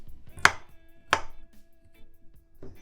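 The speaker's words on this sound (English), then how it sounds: "I'm just gonna poke some holes in my beef to hold the season" A knife jabbing holes into washed raw beef before seasoning, two sharp close stabs about half a second apart followed by a fainter third, with no one talking.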